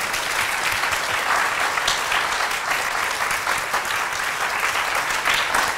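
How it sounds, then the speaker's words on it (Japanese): A church congregation claps in steady, dense applause throughout a service, with many hands close together and no clear pauses. "Give the Lord a clap."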